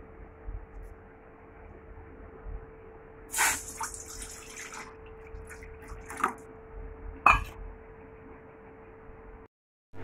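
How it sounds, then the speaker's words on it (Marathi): A cooking pot being filled with water from a kitchen tap to boil for steamed modak dough: a steady, soft running-water hiss with a few louder splashes and drips, ending abruptly. "तर आता मी हे भांडं भरून पाणी घेते आणि उकळत ठेवते"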